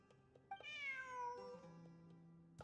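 A cat meowing in the video game Genshin Impact, one clear drawn-out meow with a falling tone, preceded by small soft chirps, heard alone and fairly quiet.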